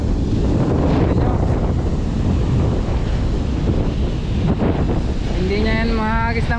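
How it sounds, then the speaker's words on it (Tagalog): Strong wind roars across the microphone at a seashore on a fishing trip for giant trevally, a steady heavy buffeting with surf beneath it and a brief voice near the end. "lakas yung hangin"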